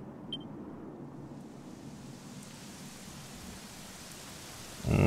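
Steady, fairly soft rain hiss in the fantasy role-playing game Dragon Quest XI, continuous throughout with a brief louder burst at the very end.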